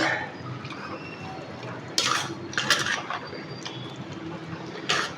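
Chicken being stirred in a green masala with ghee and yogurt in a pan: a few scraping clanks of a spoon against the pan over a soft cooking hiss, close and moderately quiet.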